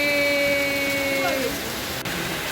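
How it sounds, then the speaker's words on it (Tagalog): Heavy rain pouring down during a motorcycle date ride, a loud broad rushing hiss that holds steady throughout, with a brief tonal whine fading in the foreground. "Lakas ng ulan"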